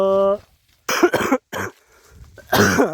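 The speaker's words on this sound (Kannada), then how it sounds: "ಭಾಳ ಕೆಮ್ಮು ಐತಿನ, ಕೆಮ್ಮು ಕಡಿಮೆ ಆಗೋಲ್ತ." A few harsh, throaty coughs in short bursts close by, after a brief tonal hum, with some voice sounds around them.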